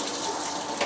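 Warm tap water runs steadily and close up from a faucet while a dog is being bathed, a continuous rushing stream with no voices.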